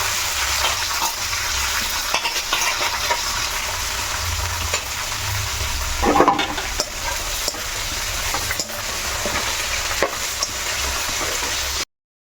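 Chopped cabbage fries in a hot pan with a steady, close sizzle, and a spatula scrapes and stirs through it with a louder burst of stirring partway through.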